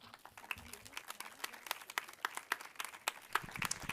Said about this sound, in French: Alors, je vais vous demander d'applaudir un petit peu plus fort.